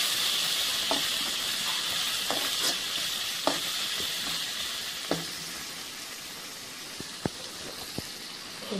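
Green brinjal fry mixture sautéing in hot oil, a steady loud close sizzle running throughout with occasional light taps and scrapes of a spatula against the pan.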